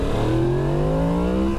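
A Yamaha MT10 motorcycle engine accelerates hard, its loud, close tone climbing smoothly in pitch over a brief pull with no talk.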